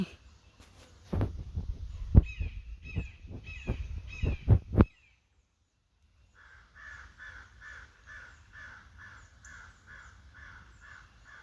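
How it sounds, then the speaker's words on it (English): Crows caw several times in loud, harsh calls during an outdoor solstice ritual. After a short silence, a softer rhythmic series of calls continues at a distance. "The crows are concurring."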